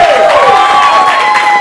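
Loud TV studio audience applause with some cheering, a continuous close wash of clapping overlaid by a gliding, sustained tone.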